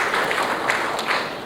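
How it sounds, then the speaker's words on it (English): Steady applause from a conference crowd at Air Cargo India 2016, a continuous wash of many hands clapping at moderate volume. "Let's have a round of applause, please."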